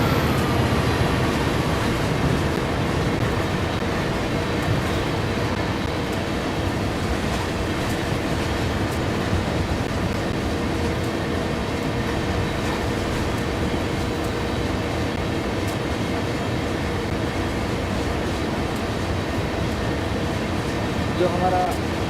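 A loaded cargo train rolls along the rails in Train Sim World 5, a continuous loud rumble and wheel clatter with faint squeal, while someone talks over it throughout.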